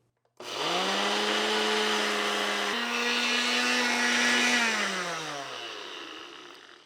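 A blender whirs steadily for several seconds, grinding 1.5 cups of oats into flour; its motor hums loud and close, shifting pitch slightly midway before winding down at the end.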